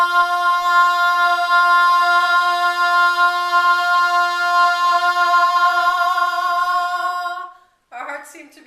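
A tuning fork tuned to F rings as one steady, sustained tone with bright overtones, loud and close for about seven seconds before cutting off, followed by a brief burst of other sound.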